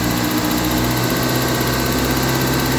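A car engine held at about 2000 RPM during an alternator output test gives a steady, continuous hum with a constant drone throughout and no talk over it.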